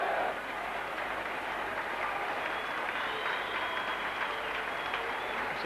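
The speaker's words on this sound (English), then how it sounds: "Applause to Salford fans as they applaud him for his skill and efforts" Salford rugby league fans in the stands applaud a Leeds player during a 2000 match, a steady, distant wash of clapping with a commentator talking faintly over it.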